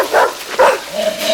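A dog gives two quick yipping barks close by, followed by a drawn-out whimper.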